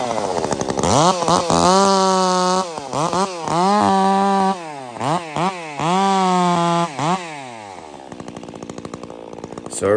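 A Stihl MS 362 chainsaw bucking firewood, its engine revving hard through repeated cuts with brief idle dips between them, loud and close, then slowing down at the end.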